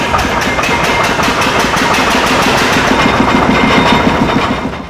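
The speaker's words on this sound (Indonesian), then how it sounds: "Terus setiap pagi kita operator manasin mesin ini Pak." An operator warms up the gate machinery engines at the Walahar weir dam in West Java; a loud, close, steady mechanical drone carries a fast rhythmic pulsing throughout, with no talking.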